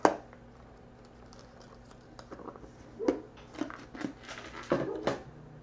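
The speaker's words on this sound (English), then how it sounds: "There must be a delivery. The dogs are barking" Dogs bark next door in short, faint, scattered yaps heard distantly through the room, with light clicks and small tapping sounds from miniature crafting work in the foreground.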